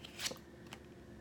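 Tarot cards are shuffled in a brief, quiet flurry of riffling and sliding card noises, close by.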